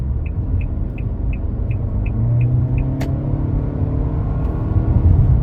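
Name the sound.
Nissan Altima car accelerating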